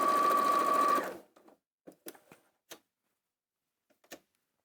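A domestic sewing machine stitches a scant quarter-inch quilting seam, a steady close whirring run for about a second, then stopping, followed by a few faint clicks and small handling taps.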